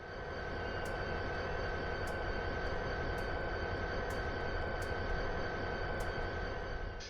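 Tri-Rail commuter train braking in Train Simulator 2020, a steady loud rolling rumble with a constant hum and brief high squeals recurring every second or so, alone without voices.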